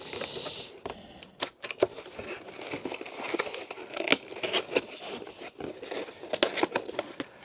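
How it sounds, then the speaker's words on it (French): Plastic wrapping is peeled and crinkled off new demo desktop computers, with irregular sharp crackles and rustles close by, no talk. "Alors le plastique est retiré parce que c'était, figurez-vous, des ordinateurs de démo."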